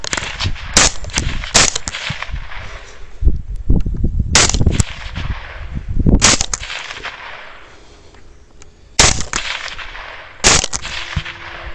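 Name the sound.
rifle shots fired at hogs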